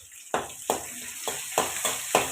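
Curry leaves, ginger and thinly sliced green chilli fry in hot oil with a constant high sizzle, broken by about five evenly spaced stirring scrapes, each a short, loud rush of sound.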